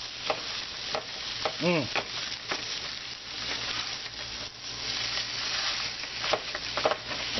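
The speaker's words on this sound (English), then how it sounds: "give me a spatula. Push that around a little bit." Spicy sausage with peppers and onions sizzles in a pan while a spatula pushes it around, a steady close frying hiss broken by scraping stirs, with a brief spoken word.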